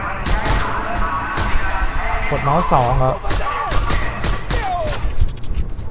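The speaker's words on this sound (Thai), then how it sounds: "ระเบิด" Explosions and gunfire burst out in the Just Cause 2 video game, several sharp, loud blasts scattered across the stretch with rumbling tails, while someone talks over them.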